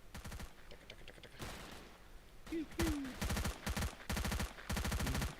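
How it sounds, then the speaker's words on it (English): Rapid bursts of automatic gunfire in the video game S.T.A.L.K.E.R. rattle repeatedly in quick succession, loud and close, with a brief voice in between. "Oh my god, the gunfire is loud. Daka daka."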